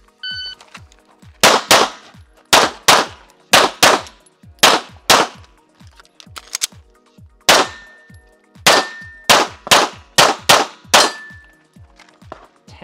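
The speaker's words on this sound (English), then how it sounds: "I think the gun's a little loud with the comp." Gunshots from a pistol fitted with a compensator on a shooting range, loud sharp cracks fired in quick bursts of two to four shots with brief pauses, ringing metallic steel-target clangs mixed in and no talking.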